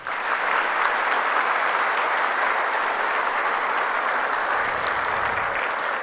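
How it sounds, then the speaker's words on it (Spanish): University incorporation ceremony audience applauding the professors and members, a loud, sustained roar of clapping from a large crowd that stays full and even for several seconds. "Un aplauso, por favor"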